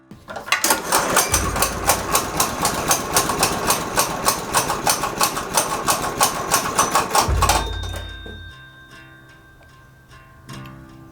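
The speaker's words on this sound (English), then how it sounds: "That knocking is a bad thing." Budget race car engine knocking with a fast, regular mechanical ticking over a running engine, loud and close for several seconds before dropping to a quieter idle.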